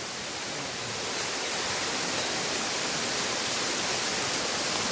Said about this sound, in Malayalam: ഇതൊക്കെ നല്ല ശുദ്ധ ഉറവയാണ് കേട്ടോ.